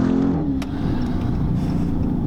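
Dodge Charger 392 with a 6.4-liter Hemi V8 on Michelin Pilot Sport A/S 3+ tires accelerating hard in second gear: a loud, steady, deep engine roar with continuous low rumble throughout.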